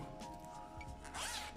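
A zipper on a small mesh pouch from Miniso gives a quick, close zip near the end. Faint handling rustle comes before it.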